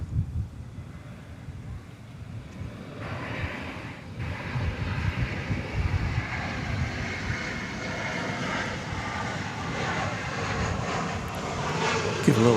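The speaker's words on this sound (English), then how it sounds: "we can see the Turkish Dreamliner now approaching Terminal D" A Turkish Airlines Dreamliner airliner taxiing toward Terminal D at DFW Airport gives a steady jet engine roar that grows louder midway, heard from a distance with some wind noise across the microphone.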